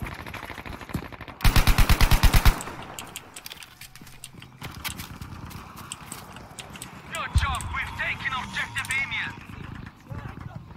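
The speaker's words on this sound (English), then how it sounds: "God, the Ribro shoots so slow compared to the supply guns." A Ribeyrolles rifle fires a fast, evenly spaced burst of sharp shots in Battlefield V, loud and close, then scattered fire and clatter follow while people talk.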